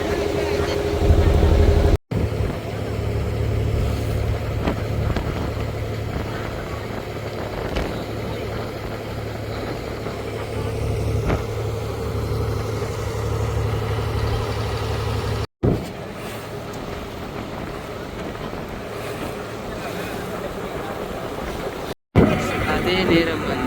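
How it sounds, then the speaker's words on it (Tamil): Engine of a passenger boat pulling away from a jetty on the way to Eluvaitivu island: a steady, droning motor hum with water noise that runs the whole time, while a voice talks over it. "இப்போ வந்து படகு வந்து பயணிக்க தொடங்கி இருக்கு. ஜெட்டியை விட்டு வெளியே வந்துட்டுருக்கு."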